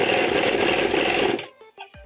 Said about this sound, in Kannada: ಈಗ ಆಲ್ರೆಡಿ ಸ್ಟಿಚಿಂಗ್ ಮಿಷಿನ್ ಎರಡಿರೋದ್ರಿಂದ ಇದು ಜಿಗ್ ಜಾಗ್ ಓರ್ಲಕ್ ಮಾತ್ರ ಇಟ್ಕೊಂಡಿದ್ದೀನಿ